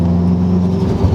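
Subaru WRX STI engine pulling hard out of a corner as the turbo comes onto boost, a loud, steady close-up drone with rising engine tone throughout.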